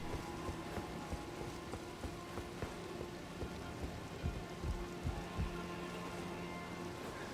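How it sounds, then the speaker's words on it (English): Steady rain falls in the Elden Ring video game, a constant soft hiss of drops on surfaces with a few low rumbling thumps near the end, moderately quiet throughout with no talk. "I think it's always been raining."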